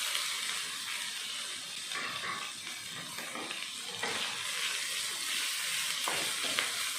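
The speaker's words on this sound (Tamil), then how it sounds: "ரெண்டு நிமிஷத்துக்கு வெங்காயத்தை வதக்கிடலாம்" Chopped onions with crushed ginger, green chilli and curry leaves sauté in a pan, giving a soft, even sizzle with faint intermittent stirring, fairly quiet throughout.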